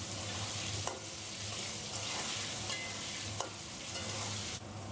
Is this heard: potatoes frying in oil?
yes